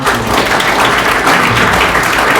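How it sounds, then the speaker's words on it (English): A big round of applause from the audience at a national debate event in Chuuk, FSM, honoring both debate teams; dense, loud, sustained clapping fills the whole stretch without a break. "let's give both team a big round of applause"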